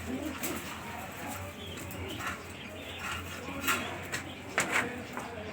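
Pigeons coo softly at an Alexandria pigeon market, low murmuring calls repeating beneath steady background noise, with scattered sharp clicks and bumps nearby.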